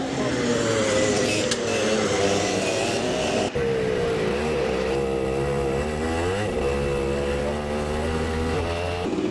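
A racing kart heads out onto the track at pace, its engine buzzing loudly and climbing in pitch as it accelerates, close by and continuous with no talking.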